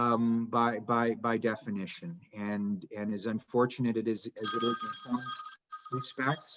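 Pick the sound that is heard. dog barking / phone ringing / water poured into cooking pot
phone ringing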